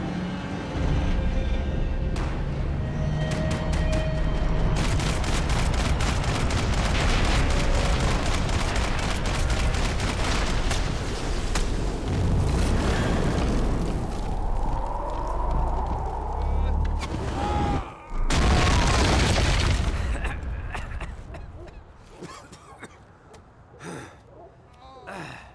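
Gunfire in the video game Max Payne 3, dense rapid shots and crackling bursts through most of the clip, loud and mixed with game sounds and shouting voices, then thinning out toward the end.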